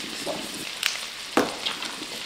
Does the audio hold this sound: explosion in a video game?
no